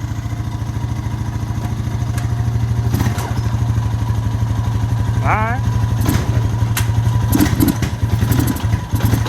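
Honda Rancher ATV engine, old with oil in the exhaust, idling with a steady rapid putter up close, broken by a few clanks and thumps, with brief talk in between.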